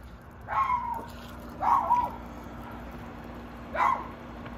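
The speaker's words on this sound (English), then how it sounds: "What are you barking at?" A dog barks three times, spaced a second or two apart, at moderate distance over a low background hum.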